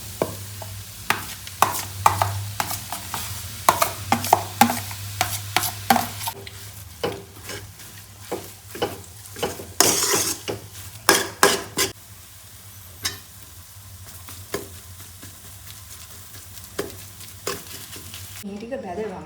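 Chillies fry in a pan with a steady sizzle while a utensil stirs and scrapes in quick, close clatters, loud and continuous throughout.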